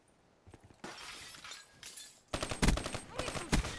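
Gunfire bursts in Call of Duty Black Ops III online multiplayer, loud rapid automatic shots in clustered volleys with sharp cracks and scattered pops in between.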